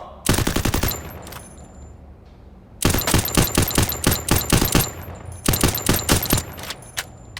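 Rapid automatic gunfire from a mobile video game played on an OPPO A17 phone, loud bursts of quick shots in three volleys separated by short pauses, with no talk over them.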